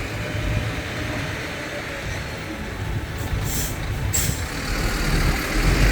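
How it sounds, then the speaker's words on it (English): A truck pulling up in front of a beachside hotel in Kep, Cambodia, its engine rumbling steadily and close, with two sharp hissing air-brake bursts partway through. "there's a truck just come in front of the hotel"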